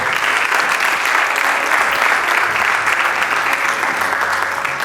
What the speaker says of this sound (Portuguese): Mais uma grande salva de palmas para o Walter.